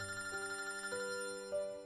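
A phone ringtone plays a repeating electronic melody of clear tonal notes that step upward, moderately loud and steady with no voices.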